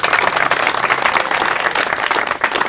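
Audience at a village gathering in Jaunpur clapping steadily, a dense crackle of many hands at close range with no talk over it.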